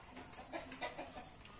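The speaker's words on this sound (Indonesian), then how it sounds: "Nah, itu ayam-ayam saya." Chickens cluck inside a coop on a small farm, a cluster of close, soft clucks and short calls with a sharp squawk or two, over a low steady background.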